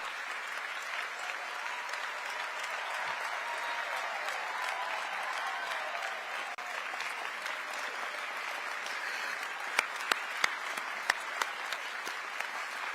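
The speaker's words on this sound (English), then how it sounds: "I'm gonna let them get all their applause in." Steady, sustained applause from a large crowd at a city address in Atlanta, a dense even roar of many hands clapping throughout, with a few louder individual claps standing out near the end.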